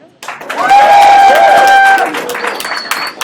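An audience at a live product debate event bursts into loud applause and cheering, with a high whoop or whistle rising over the crowd noise before it tapers off.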